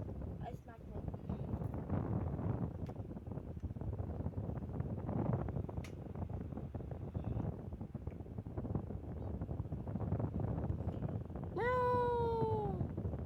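Cartoonish cat meows in a blocky sandbox video game, a single clear meow near the end after a long stretch of noisy, wind-like background with a voice talking throughout.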